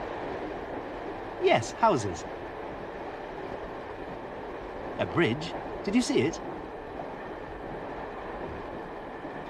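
Steady rumble of a train running on rails fills the background while people talk briefly over it, as the train crosses a river.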